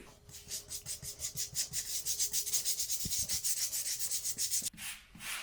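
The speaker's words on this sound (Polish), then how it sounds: "ja sobie przemaluję olejem ten cały tył" Rhythmic back-and-forth rubbing of oil onto a wooden surface outdoors, a quick even swishing close up that stops abruptly near the end.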